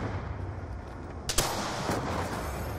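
Loud sudden gunfire bursts in the multiplayer shooter Black Ops II gun game mode, a sharp blast followed by another shot over a steady low background rumble.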